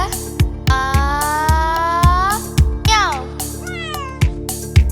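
A cat meows repeatedly in an animated Tamil kids' song. Several drawn-out, rising and falling meows play over a steady rhythmic beat, bright and close.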